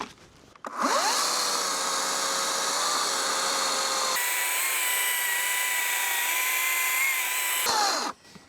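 A Ryobi 40V HP battery chainsaw cuts through a tough log in freezing weather, a steady loud high-pitched whine that spins up, holds for about seven seconds with a slight change in load midway, then winds down, with no talk.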